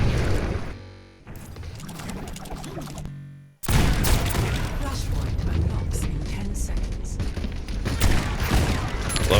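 Rapid gunshots ring out in a shooter video game, dense and loud, with a brief drop-out before heavy firing resumes for the rest of the stretch.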